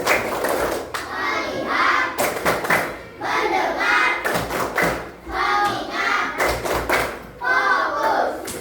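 A room full of students claps in patterned bursts, clusters of quick group claps repeating every second or so, interleaved with a leader's voice and children's chatter.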